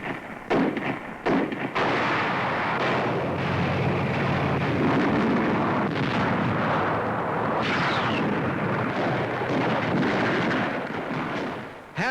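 Infantry gunfire from a 1944 wartime newsreel, a dense, continuous roar of rifle and machine-gun fire with sharp reports and booming blasts sustained throughout, loud and close.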